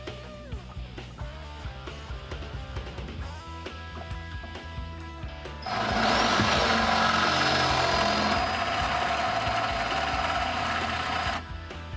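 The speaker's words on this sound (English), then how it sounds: "We'll just drill the head off with a 7/16 drill bit." A power drill with a 7/16 bit whirs steadily, then bites into a rivet-style bolt head with a louder, higher grinding whine for several seconds before winding down, with workshop clatter beforehand.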